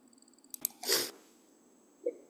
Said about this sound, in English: I can't stop sneezing.